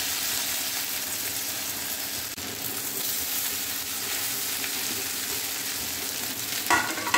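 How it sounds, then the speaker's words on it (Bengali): A paste of jute leaves and lentils frying in a pan with cumin and green chili, giving a steady close sizzle throughout with a brief stirring scrape near the end and no voices. "এইবারে এটা আমি হালকাভাবে ভাজা ভাজা করছি।"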